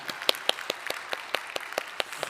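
Church congregation at a Korean Sunday service giving a short round of encouraging applause, a sparse, uneven patter of individual claps from a smallish group, fairly close and fading after a couple of seconds.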